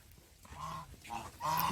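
A duck gives three short, nasal quacks in quick succession, close by and fairly clear, each call a little louder than the one before.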